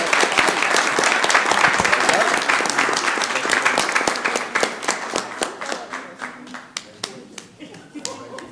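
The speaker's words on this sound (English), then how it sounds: "Let's give her another round of applause" Audience applause at a city council meeting: a dense round of clapping that thins into scattered individual claps as it dies away, with voices talking over it.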